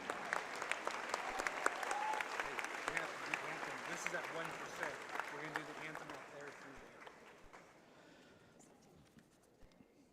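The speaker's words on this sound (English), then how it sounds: "give a round of applause for these outstanding officials, Wade Spencer and Willie Beeman" A gym crowd at a high school volleyball match between Fairbury and Beatrice applauds the match officials, with dense, fairly distant clapping and a few voices mixed in, slowly thinning and fading out over about ten seconds.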